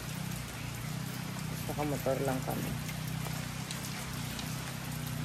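Steady rain falls during a motorbike trip in Infanta, Quezon, as a constant dense hiss with drips spattering on a surface. A voice speaks briefly over it.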